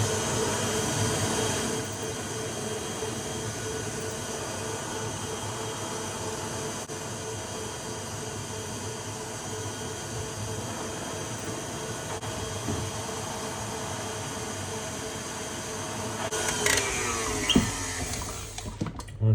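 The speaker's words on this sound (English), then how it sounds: "So we're gonna torch all around the side." A kitchen torch heats the sides of a bowl to melt sugar into egg white for French macarons, giving a steady close roaring hiss throughout that ends in a few clinks near the finish.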